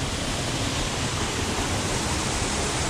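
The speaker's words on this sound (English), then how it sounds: "This is a pretty cool waterfall." Steady, dense rushing roar of a waterfall at a campsite, loud and continuous throughout with no talk over it.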